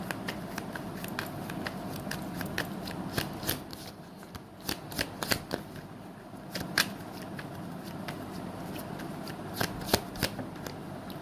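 Tarot cards are shuffled by hand in a continuous papery riffle, with sharper snaps of the deck at irregular moments.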